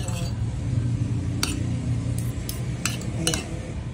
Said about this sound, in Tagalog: Mix natin ang bagoong na itong pagsama-sama natin siya.